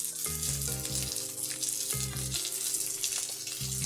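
Corn kernels and carrot roasting in a little ghee in a pan, a steady close sizzle running throughout with a low rhythmic hum beneath it.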